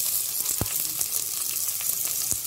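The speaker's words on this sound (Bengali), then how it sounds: "এটা একটু ব্রাউন কালার করে ভেজে নিব।" Chopped garlic and onion frying in hot oil in a pan on a stove, a steady broadband sizzle with a few sharp pops and crackles, close and moderately loud, no voices.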